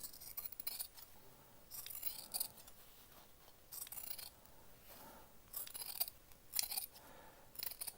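Sewing scissors snip threads off a sewn corner of Thai wrap trousers in short, quiet bursts of crisp metallic clicks separated by pauses, close and otherwise calm.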